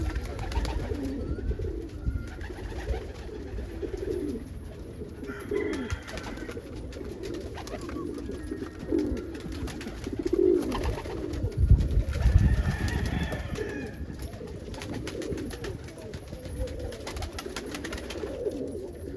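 Homing pigeons coo in a low, throaty murmur on a warm afternoon at a loft, with soft wing flutters and rustling mixed in, steady and close, a little fuller near the middle.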